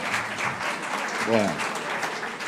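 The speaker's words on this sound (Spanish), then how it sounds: "Lo vamos a aplaudir porque está muy bien." Audience applause during a talk by a priest about the Lourdes sanctuary: dense, steady clapping fills the clip at an even level, with a brief voice rising over it midway.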